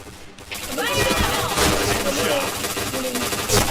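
Gunfire in the first-person shooter Point Blank, dense bursts of game shots and impacts running steadily throughout, with a streamer's voice talking over them.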